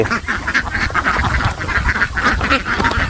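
Many egg-laying ducks on a farm beside a pond quack continuously in a dense, overlapping chorus, loud and close, with no pauses and no talking.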